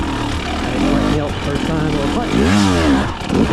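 A 2024 Husqvarna TE300 dirt bike revs hard up a short climb, its engine note rising and falling as the throttle is worked, with the rider's voice heard over it.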